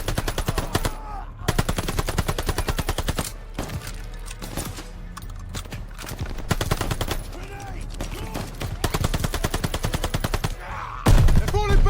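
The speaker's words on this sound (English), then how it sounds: "Open fire! Take them down!" Rapid machine-gun bursts rattle in a Call of Duty Vanguard battle, loud and close, with sustained automatic fire broken by brief pauses and a few heavy thuds.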